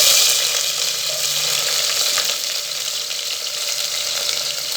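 Chopped onions fry in hot oil with spices for mutton biryani, giving a steady, loud, close sizzle that fades slightly without pause.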